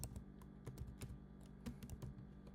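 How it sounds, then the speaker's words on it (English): Keys tapped on a computer keyboard while entering a search into Google, an uneven burst of close, crisp clicks and thuds running throughout with no talk. "So I'm just going to type Claude AI"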